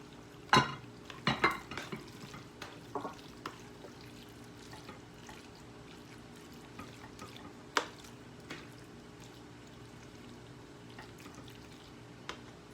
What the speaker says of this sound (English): And then I'm just going to put it in my pan.